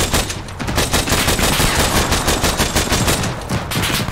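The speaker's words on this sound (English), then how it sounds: "More shots, close." Dense, loud gunfire in the video game ArmA 3 during a military simulation Humvee ambush, continuous rapid automatic bursts and shots filling the whole stretch without a break.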